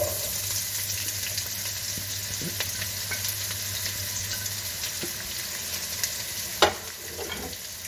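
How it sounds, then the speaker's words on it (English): Onions hit hot oil in a pan for a lamb meatball masala curry and set off a steady, broadband sizzle and frying hiss. A few soft clinks and stirring knocks come through, with one sharper clatter near the end. "Okay, so I'm now going to add my onions in."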